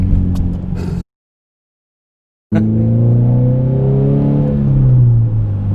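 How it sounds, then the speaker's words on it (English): A 2013 Subaru BRZ Premium with a six-speed manual revving loudly from inside the cabin, cutting to silence for over a second, then the engine pulling hard with pitch climbing steadily under full throttle. "You can floor it from here if you want."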